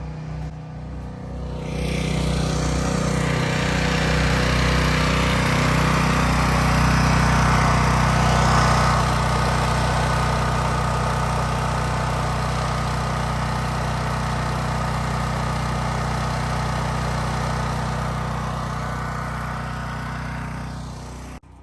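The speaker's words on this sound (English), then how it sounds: "Let's go check the generator." A Champion 11500/9200W portable generator engine starts up and runs at a steady drone. It stays loud and close throughout with a constant low hum and no talk.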